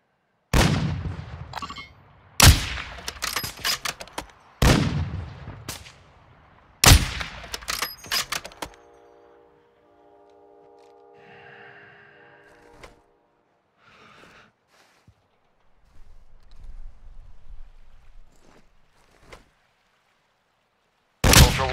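Call of Duty: Modern Warfare II gunfire: loud, close bursts of automatic fire crack out in several volleys during the first few seconds. Quieter game sounds and distant rumbles follow, with one more sharp shot at the very end.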